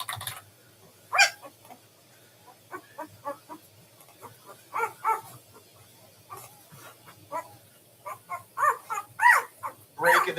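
A dog barks in short, scattered bursts at moderate distance in an otherwise quiet room, with occasional talk between the barks.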